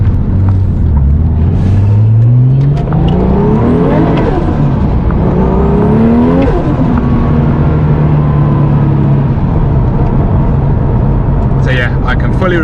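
A Porsche 964 Turbo 911 with 640 hp and a fabricated third exhaust drives along, its engine rising through gears in loud, close sweeps before settling into a steady cruising drone.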